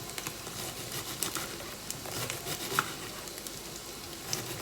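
Canned tuna and potato fish cakes fry in a pan with a steady, crackling sizzle and small pops, close and moderately quiet, with no talking.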